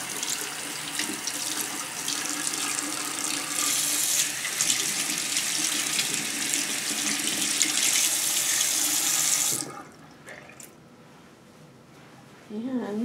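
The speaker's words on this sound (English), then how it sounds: "So I'm going to turn the hot water on." Hot water runs from a bathroom tap into a sink in a steady, close, broadband rush for about ten seconds, then cuts off, leaving a quiet room with a brief spoken word near the end.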